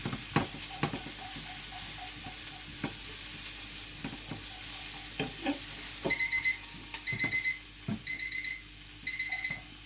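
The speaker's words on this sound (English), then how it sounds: "the timer has gone off, which means it's time to add our florets" A kitchen timer beeps in short repeated bursts over a steady sizzle of frying, with occasional clinks and stirring sounds.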